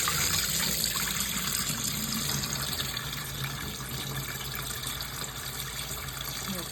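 Water draining from a pot of boiled goat meat for Jamaican curry goat, a steady close gushing and splashing pour that lasts throughout.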